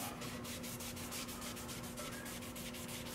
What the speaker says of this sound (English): So I'm just cleaning this with alcohol.